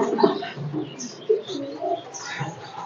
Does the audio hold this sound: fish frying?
no